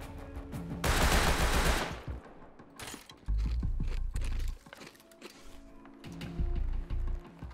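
Video game gunfire comes in several short, loud bursts, with quieter clicking and rattling in the gaps between them.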